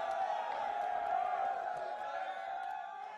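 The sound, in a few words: crowd cheering at esports championship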